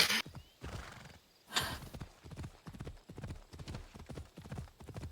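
Horse hooves clip-clop at a steady trot in Assassin's Creed, with a loud whinny near the start and another around the second mark, the rhythmic hoofbeats carrying on close and clear to the end.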